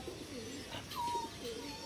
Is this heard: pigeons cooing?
yes